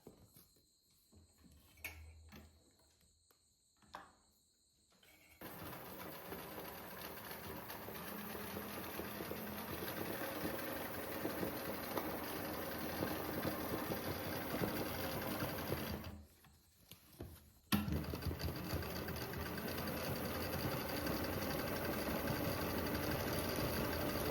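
Embroidery sewing machine stitching a butterfly design, running steadily and continuously for about twenty seconds after a quiet start, with a short pause near the end before the rapid mechanical whirr resumes.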